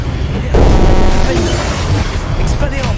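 An Incendio fire spell is cast in the Hogwarts Legacy video game near statues: a sudden loud whooshing burst flares and rumbles on for a couple of seconds, with a voice speaking over it.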